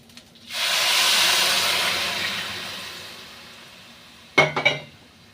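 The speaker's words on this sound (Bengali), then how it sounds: "এখন আমি পুরো জলটা এখানে ঢেলে দিচ্ছি।" Water poured into a hot pan of oil-coated fried rice and cumin for jeera rice sets off a loud, broad hiss that swells over about a second, then slowly fades, followed by a few sharp metallic clinks of utensils against the pan.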